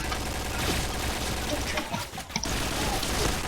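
Gunfire in the online shooter Point Blank, bursts of rapid automatic shots over continuous game noise, with a player talking excitedly under the shooting.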